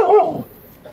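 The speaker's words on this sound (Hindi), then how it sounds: "इसीलिए मैक्स इतना ज़्यादा हल्ला करने लग गया आज। वैसे तो ये भौंकता ही नहीं है भाई" A dog at a forest camp gives one loud, close, strained bark that trails into a whining tail, followed by quiet.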